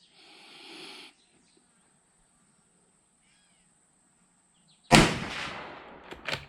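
A single loud, sharp report from a 350 Legend Mossberg Patriot rifle cracks out after a quiet stretch, decaying quickly with some echo, preceded by a faint earlier noise.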